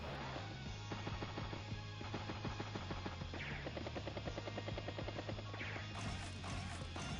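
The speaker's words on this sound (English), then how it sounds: "Helicopter, that's interesting." A helicopter unit from Advance Wars: Days of Ruin gives a loud, continuous rotor chop with a steady pulsing thrum and a few crashing hits layered over it.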